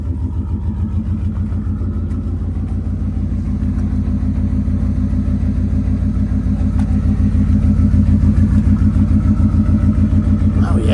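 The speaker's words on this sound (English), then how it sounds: "Listen to this exhaust for a second." A 1999 Toyota Land Cruiser with over 555,000 miles idles steadily, its exhaust giving a deep, even rumble with a rhythmic throb that grows slightly louder toward the end.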